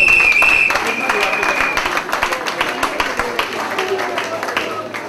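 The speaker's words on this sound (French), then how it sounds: "Applaudissez-le" An audience at a couples' dance evening claps for a man, a dense burst of applause that is loudest at the start and then thins into scattered, uneven claps, with chatter and a sustained tone underneath.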